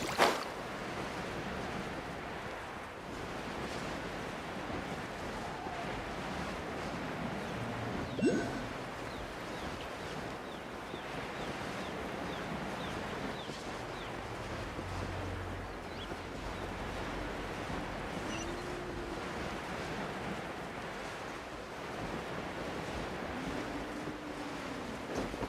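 A boat carves through open ocean in Genshin Impact, giving a continuous loud rush of water and wash with wind noise, steady for the whole stretch with a few splashy peaks.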